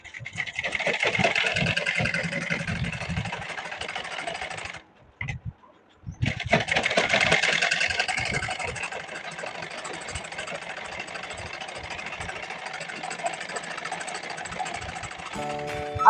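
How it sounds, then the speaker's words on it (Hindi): Electric sewing machine stitching blouse fabric, a close, continuous mid-pitched whirring run that stops briefly for about a second, then resumes steadily to the end. "तो यहाँ से हम सिलाई लगा लेते हैं 2 पॉइंट पर।"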